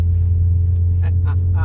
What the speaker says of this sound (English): drifting in the snow